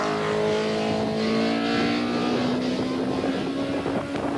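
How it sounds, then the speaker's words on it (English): Special saloon race cars up to 1300cc at a 1987 Donington Park circuit sprint, a single engine note rising steadily in pitch as the car accelerates along the track, with wind buffeting the microphone and no talk. "First cars on the track were the special saloons up to 1300cc."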